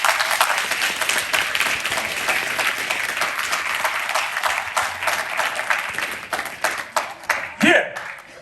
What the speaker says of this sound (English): please, a round of applause for Coach Mike